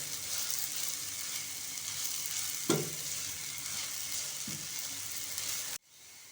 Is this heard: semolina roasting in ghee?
yes